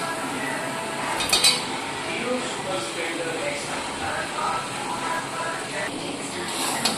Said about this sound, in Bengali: এবার আমি ভেজে রাখা চিকেনটা দিয়ে দিচ্ছি।